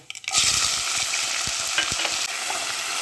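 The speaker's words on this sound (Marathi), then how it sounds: "आता कांदा छान लाल होतपर्यंत परतून घ्यायचा आहे" Chopped onion frying in hot oil with mustard seeds and cumin for a homestyle papaya sabji, a steady loud sizzle with occasional stirring scrapes, close and without talk.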